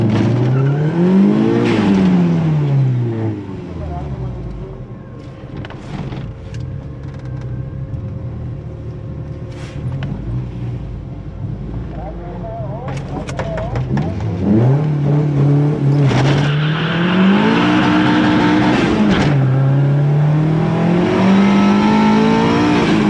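A 1.8T Mk2 Golf on low boost makes a drag racing pass, the turbo four-cylinder revving loud and near through repeated rising gear pulls with sharp shift breaks, no talk.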